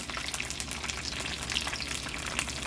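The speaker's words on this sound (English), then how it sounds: "finish frying up my egg rolls" Dense, crackling sizzle of ground lamb egg rolls deep-frying in hot oil, constant and close, with tiny pops throughout and no speech.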